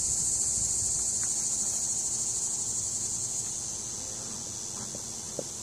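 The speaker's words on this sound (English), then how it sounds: "Lots of bees." Honeybees swarm around an open hive in Kenya while its frames are lifted, giving a steady, dense high drone that fills the scene and fades slightly toward the end, with faint knocks beneath.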